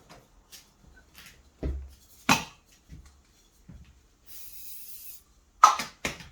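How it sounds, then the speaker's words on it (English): Several short spray bursts hiss up close, scattered among clicks and knocks, with one longer steady hiss near the end. "Okay, I'll spray it now."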